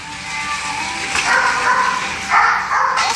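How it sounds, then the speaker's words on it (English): A dog barks and yips a few times at moderate distance, the bursts uneven over a steady background hum. "there's going to be a barking dog"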